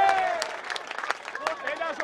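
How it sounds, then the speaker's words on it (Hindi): Audience applause at a stage event, steady dense clapping from a crowd throughout, with a speaker's voice cutting in over it. "जोरदार ताली है"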